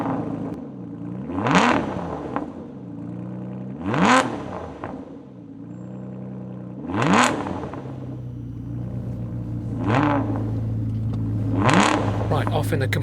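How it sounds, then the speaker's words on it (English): An Aston Martin DBS engine revs hard five times in a row, each burst rising sharply and dropping back to a steady idle, close and loud with nothing else heard. "OK, let's make some noise. Aston Martin first."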